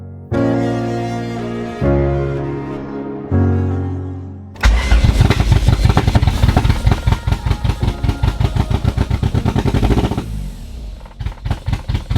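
A Honda Civic with a swapped B-series engine cranks with a starter whine, then catches and runs loud and lumpy, its uneven pulsing idle close and rough, without any speech.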